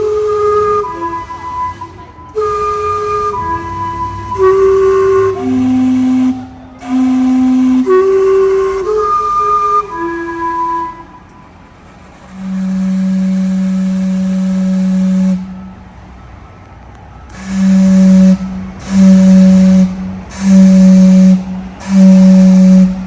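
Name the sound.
Gastown steam clock whistling, Vancouver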